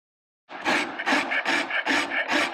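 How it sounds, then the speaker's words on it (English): A file rasps across a steel knife blade bevel in quick, rhythmic back-and-forth strokes, close and fairly loud, about five passes in a row. "I'm not going to continue filing this whole thing for this video."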